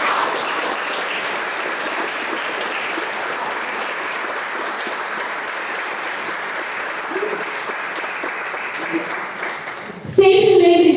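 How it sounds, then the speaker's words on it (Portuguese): A church congregation applauds in a long, even wash of clapping lasting about ten seconds, with voices mixed in, before the applause cuts off abruptly and a different sound takes over. "Você pode aplaudir ao Senhor?"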